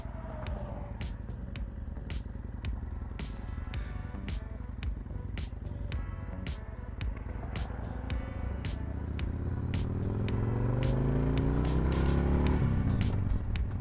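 Road traffic rolls past a motorcyclist stopped at the roadside. A low, steady rumble runs under a rapid ticking, then a vehicle engine climbs and grows louder toward the end.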